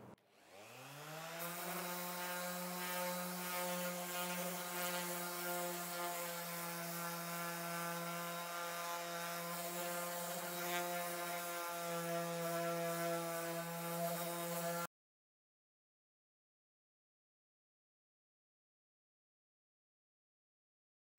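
Electric sanding machine smoothing the edge of an epoxy resin tabletop, a steady loud motor whine that starts abruptly, holds for about fifteen seconds, then cuts off into silence.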